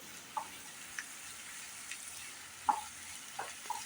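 A paneer and green pea curry mixture is sautéed in a pan. A faint, low sizzle runs throughout, with a few scattered spatula scrapes and taps.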